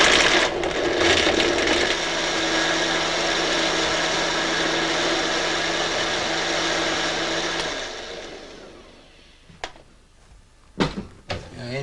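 Tamarillos being chopped up with a blender for a drink, a loud steady whirring for about eight seconds that then cuts out, followed by a few sharp knocks and clatters.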